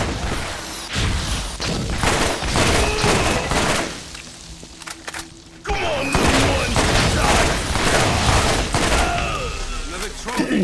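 Rapid bursts of explosions and gunfire from a Tediore grenade launcher in Borderlands, loud and close, with repeated blasts in quick clusters, a brief lull, then more dense explosive bursts.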